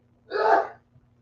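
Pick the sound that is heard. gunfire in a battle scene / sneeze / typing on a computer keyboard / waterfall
sneeze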